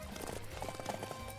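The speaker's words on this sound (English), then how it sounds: "Horse is not overwhelmingly fast, but there we go." A horse gallops in Samurai Warriors 5 on PS4, rapid rhythmic hoofbeats clip-clopping at moderate level under in-game ambience, brief and steady.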